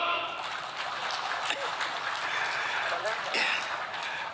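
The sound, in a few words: audience applause for Cak Lontong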